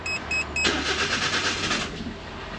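A Suzuki Every van with a turbo engine cold starts: a few short electronic chimes, then the starter cranks and the engine catches into a steady idle, loud and close, with no talking.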